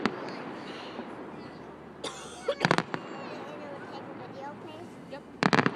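Fireworks burst at a display, with a couple of sharp clusters of crackling pops at moderate distance over a steady crowd murmur, separated by quieter stretches.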